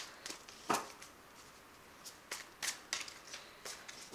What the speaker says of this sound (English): I'll just give it a quick shuffle.